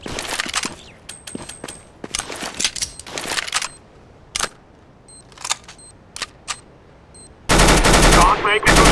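CS:GO gunfire in a bomb-planted round: bursts of rapid automatic shots and single cracks scattered across the stretch, ending in a loud, sustained roar of continuous firing.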